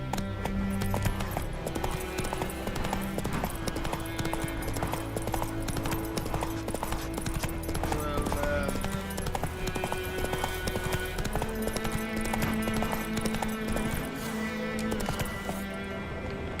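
Roach the horse runs in The Witcher 3, with rhythmic clip-clop hoofbeats carrying steadily under continuous game music.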